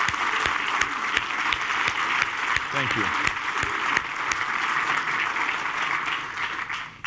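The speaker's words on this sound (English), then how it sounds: "I think we should all give a round of applause to all of the veterans here today." Audience at a campaign event applauds veterans, a dense sustained wash of clapping filling the whole stretch at steady loudness, with a brief spoken thanks near the start.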